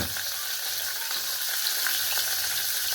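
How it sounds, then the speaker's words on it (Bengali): Khoira fish from the Hooghly river fry in hot oil in a pan, giving a dense, continuous crackling sizzle, close and steady, with no voices. "হেলদি খয়রা মাছ ভাজা হচ্ছে"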